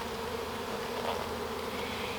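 Honey bees buzz steadily around an open hive while brood frames are checked, a dense close hum holding level throughout with no talking.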